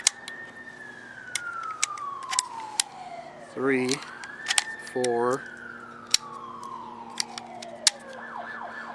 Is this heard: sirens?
yes